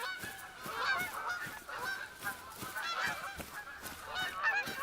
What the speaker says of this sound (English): Oh, I got some geese over here.